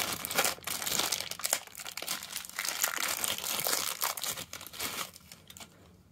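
Plastic wrapping crinkles and tears as a brand new roll of Kapton tape is unwrapped. The crumpling is close and busy and continues almost without a break before trailing off at the end, with no talk.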